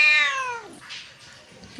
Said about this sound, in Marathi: किती ओरडते हात लावल्यावर.